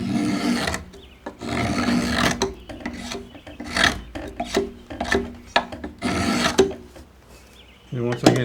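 Spoke knife shaving wood on a shaving horse in 1700s-style frontier woodworking: repeated rasping strokes of varying length, close and fairly loud, one after another with short pauses.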